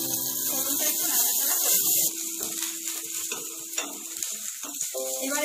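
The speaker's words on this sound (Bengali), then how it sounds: "একটা ফ্রাইং প্যান গরম বসিয়েছি, এর মধ্যে দিয়ে দেব 1 টেবিল চামচ ঘি, 1 চা চামচ হিং, 1/2 চা চামচ গোটা জিরে আর দেব 1 চা চামচ গ্রেট করা আদা" Ghee with asafoetida, whole cumin seeds and grated ginger sizzles loudly in a hot frying pan, a steady bright crackle that drops a little after two seconds and carries on with light scraping of a spoon.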